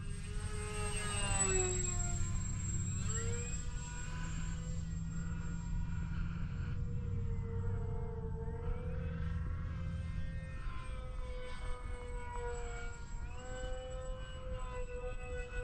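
An FF-Stingray model plane doing barrel rolls makes a continuous whining motor drone whose pitch sweeps up and down as it rolls, loud and steady throughout, with no talking.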